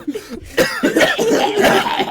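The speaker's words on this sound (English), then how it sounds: "it started as a fake cough and it's turning into a real cough" A person coughs close to the microphone in a string of loud, rough bursts with short gaps between them, growing harsher as it goes on.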